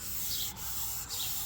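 Hand sanding car bodywork with 600 grit sandpaper makes close, steady rubbing strokes, with two brief pauses where the stroke changes direction.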